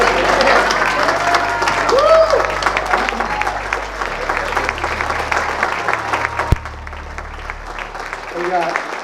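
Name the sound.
audience applause for award recipient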